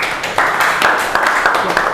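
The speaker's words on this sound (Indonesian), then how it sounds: "Tepuk tangan untuk Ahasbi." Students in a classroom clap for a classmate after a math problem, a brief scattered burst of hand claps close by and fairly loud, with no voices over it.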